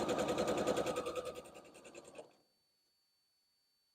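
A sewing machine stitching a quilt block, a fast, close mechanical chatter of needle strokes that runs for about two seconds and then stops abruptly, leaving silence.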